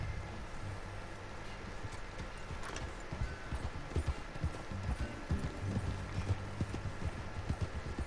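Horse galloping in Red Dead Redemption 2, rapid rhythmic clip-clop hoofbeats pounding steadily over a soft background wash, fairly close and continuous for several seconds.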